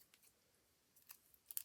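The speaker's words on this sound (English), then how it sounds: "a pair of scissors, look, and it literally cuts like that" Scissors snip through washi tape used for card making, giving a few quiet, crisp cuts close by, the last two sharper and louder, against near silence.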